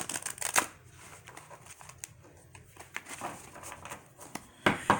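Tarot cards are shuffled nearby, with soft papery riffles and slaps in irregular bursts, louder at the start and end, with no voices.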